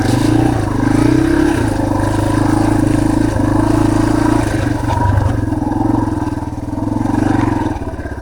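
An off-road motorcycle rides a trail at the Reiter ORV park, its mid-pitched engine droning loudly and steadily at close range, with slight changes in pitch as the rider shifts down through the gears.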